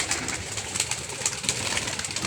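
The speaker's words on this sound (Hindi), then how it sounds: "तो ये देखें ये कबूतर इनके हैं" Pigeons coo in a loft at a pigeon club, a dense overlapping chorus of soft throaty calls that fills the whole moment, close and continuous.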